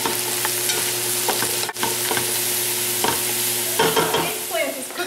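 Eggplant, celery and onions fry over high heat, giving a steady close sizzle broken by several sharp scraping stirs and clatters of a utensil in the pan.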